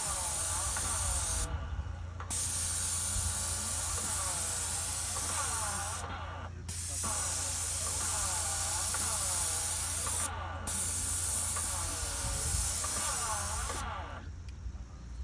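Continuous hissing spray from a Graco paint sprayer in long bursts, briefly stopping three times as the trigger is released, over a steady mechanical hum.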